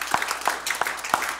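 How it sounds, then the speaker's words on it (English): Church congregation clapping hands in about four sharp, evenly spaced claps, close and fairly loud, with a little room noise between them. "Give him a hand clap this morning."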